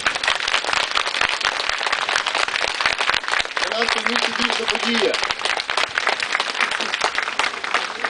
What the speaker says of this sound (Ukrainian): Я пропоную, давайте оплесками подякуємо, що він приїхав до нас.